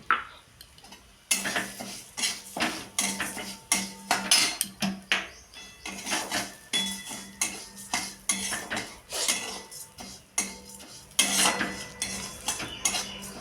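Mung dal frying with cumin and dried chilies in a pan, heard mostly as a rhythmic run of metal spatula scrapes and clinks against the pan, with faint sizzling between strokes.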